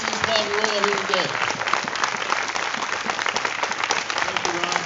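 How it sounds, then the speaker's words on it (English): Audience applause breaks out in an awards-style gathering, a dense steady wash of clapping sustained for several seconds, with voices and a bit of music-like tonal sound running beneath it. "if you could give them a round of applause"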